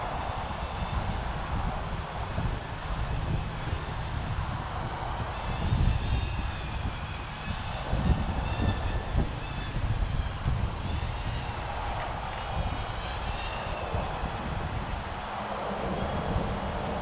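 A small radio-controlled aircraft engine drones steadily throughout, a constant buzzing whine with wind rumble underneath on a windy day, no voices.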